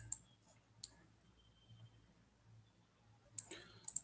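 Computer mouse clicks during an Azure load balancer setup in a web portal: a few sharp, quiet clicks spaced out over a faint background hum, with no talking.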